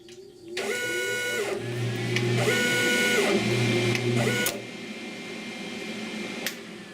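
A Hiker 101am web cutter machine with heater runs close up, giving a steady mechanical whir with tonal motor hums that rise and fall in cycles, then eases to a quieter hum, ending with a brief click.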